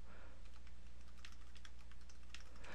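Fingers type a username and password on a computer keyboard, a quick, uneven run of soft key clicks over a low, steady background hum.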